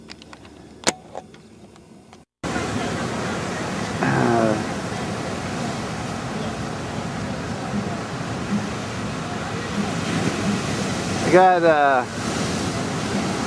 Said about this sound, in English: 15-foot waves. I don't know if you can see, these things are humongous.